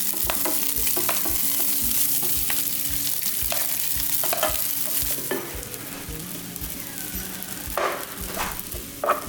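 Rice stir-frying in olive oil in a preheated pan, a loud continuous close sizzle with repeated scraping stirs and occasional sharper crackles, no voices.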